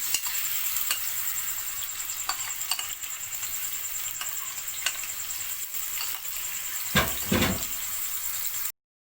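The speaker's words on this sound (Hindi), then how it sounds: "ये अदरक लहसुन का पेस्ट मैंने बना के रखा था, ये डाल देती हूँ।" Ginger garlic paste frying in hot oil, a steady crackling sizzle with occasional sharper pops and a brief scrape near the end; no talking.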